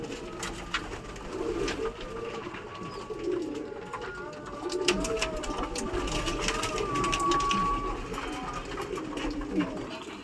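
Pigeons coo steadily in a dense chorus with a mechanical hum behind, the soft warbling calls overlapping throughout.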